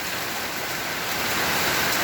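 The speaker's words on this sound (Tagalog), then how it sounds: "ang lakas ng ulan" Heavy rain pours down in a dense, loud, steady roar of broadband hiss with no gaps, growing slightly stronger toward the end.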